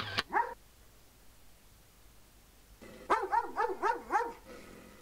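A dog in an animal shelter kennel gives one short bark, then after a pause a rapid run of about five loud, close barks.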